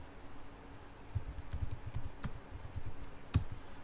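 Quiet clicking of a computer keyboard as a gzip command is typed to compress a file, a scattered run of light keystrokes with a couple of sharper key presses over faint fan hum, no voices.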